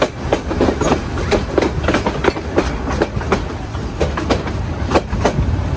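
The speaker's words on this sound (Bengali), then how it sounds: "আমাদের ট্রেনটি ঘুরে গেল রংপুরের দিকে আর এই ট্রেনটি চলে গেল" Train rolling through Kaunia Junction as it turns toward Rangpur, rhythmic clickety-clack of wheels over rail joints with steady rumbling, close and continuous, no voices.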